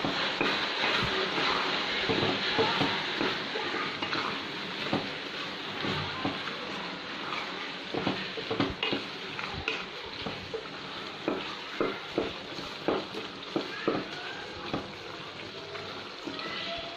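Potatoes frying in oil on a stove for aloo keema, a continuous close sizzle broken by stirring clatters and scrapes that grow more distinct toward the end.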